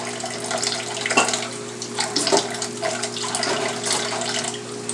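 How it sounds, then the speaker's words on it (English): Water runs steadily from a tap as a free-flighted parrot takes a shower, a continuous close splashing hiss with a few brief louder splashes and no talk. "Just hanging out, taking a shower."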